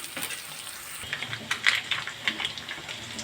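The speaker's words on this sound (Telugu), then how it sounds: "అల్లం పేస్ట్ వేసుకొని బాగా కలుపు" Ginger paste frying in hot oil with browned onions for a fish curry, a steady close sizzle broken by scraping and stirring strokes in the pan; no talking.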